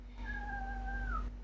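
A pet cat gives one drawn-out meow, fairly faint over a low steady hum, with no one talking.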